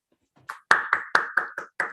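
About seven separate hand claps at an irregular, slightly uneven pace, close and clear over silence, from an online audience applauding after a physics talk on neutrinos and dark matter.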